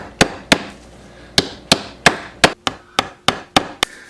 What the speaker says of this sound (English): So we're gonna start tacking it down.